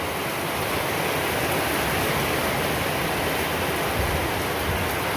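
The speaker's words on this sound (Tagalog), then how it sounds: "Lakas ng ulan" Steady, dense roar of heavy rain pouring down, a constant broadband wash with no voices and no pauses.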